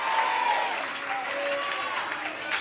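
An audience at a Christian sermon claps in a steady, moderately loud patter that continues throughout, with a voice faintly audible in the background.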